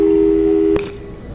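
A steady telephone call tone in the video game Portal 2 that holds loud and even, then cuts off abruptly with a short click.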